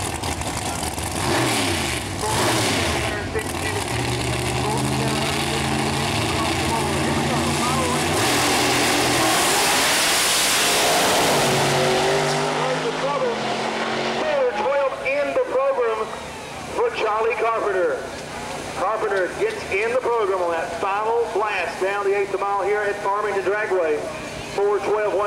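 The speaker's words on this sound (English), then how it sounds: "Quick-8 pro modified action, that is." Quick-8 pro modified drag cars at Farmington Dragway, a loud roar of racing engines climbing in pitch as they launch and run, then harsh revving and idling, with an announcer talking over the noise throughout.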